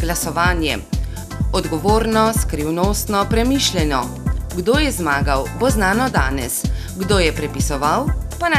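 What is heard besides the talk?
No everyday noises stand out.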